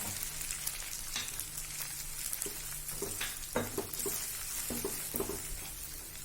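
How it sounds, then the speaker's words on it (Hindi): Ginger garlic paste fries with powdered spices in a pan, giving a soft, steady sizzle under irregular scraping stirs, quiet and close. "अदरक लहसुन का पेस्ट मिला देंगे। कच्चापन जाने तक फ्राई करेंगे और ये पाउडर मसाले मिला देंगे।"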